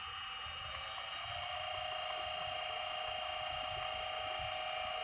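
Electric motor driven by an LS-IG5A variable speed drive runs steadily at jog speed, giving a constant close whine with stable tonal hum and no speech.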